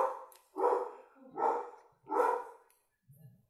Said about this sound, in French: j'ai le chien qui aboie